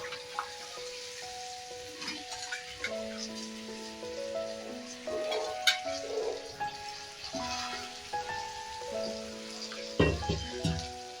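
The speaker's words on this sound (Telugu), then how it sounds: "ఇప్పుడు మనం వంకాయ ముక్కలు వేసుకుందాము." Brinjal pieces frying in hot oil with masala in a pan for a brinjal masala curry, giving a steady soft sizzle with occasional stirring bursts and clatters throughout.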